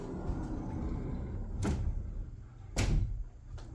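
A sliding closet door in a private bedroom glides along its track, giving two short rolling swishes in a quiet room with no talking.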